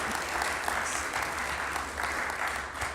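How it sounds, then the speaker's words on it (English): Conference attendees applaud at a national policy summit session, a full, steady crowd clapping that carries evenly across the whole stretch with no talk. "Let's give Leslie Hiner applause."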